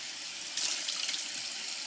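Rice rinsed in water for sake making gives a soft, steady wash of running, swishing water with a brief brighter splash near the middle, quiet and close with no voices.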